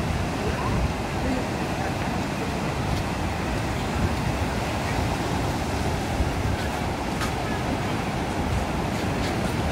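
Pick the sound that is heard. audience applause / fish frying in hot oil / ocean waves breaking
ocean waves breaking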